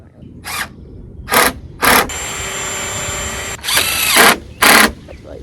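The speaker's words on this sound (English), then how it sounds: "Oh, no, not the drill." Power drill driving screws for bracing on a chicken broiler tractor build: short sharp whirring bursts alternate with a sustained high-pitched motor run, loud and close, with no talk over it.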